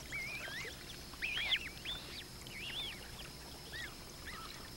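Magpie geese calling near water in crocodile country, a series of wavering honks and trills from a few birds at moderate distance over quiet background noise.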